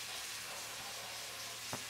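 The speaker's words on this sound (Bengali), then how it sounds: "এখন আমি সাসপেক্টগুলো দিয়ে দিব" Chicken shashlik frying in mustard oil gives a dense, constant hiss of sizzling that fills the whole short stretch, with one faint tap near the end.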